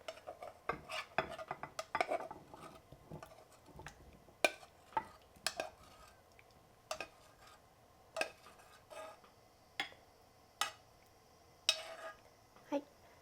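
Butter-glazed carrots are plated with utensils: faint, sparse clinks and taps of metal against a dish, irregularly spaced, in a quiet room.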